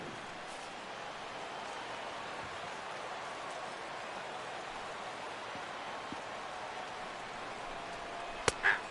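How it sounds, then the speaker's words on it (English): Steady rain falls at a baseball game at game time, a soft, even wash of hiss that continues unbroken throughout, with one brief sharp tick near the end. "The rain, as we've mentioned, coming down fairly steadily here at game time."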